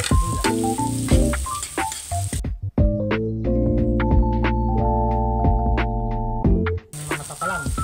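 Ginger and large tapalang shellfish sautéing in a hot pan, crackling and sizzling loudly with clattering stirring and scraping, and a brief quieter gap partway through.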